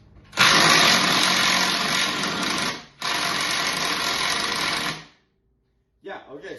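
A Milwaukee M12 FUEL impact driver drives screws into a wooden stud in two loud, sustained buzzing bursts separated by a short break, then a brief silence before it starts again.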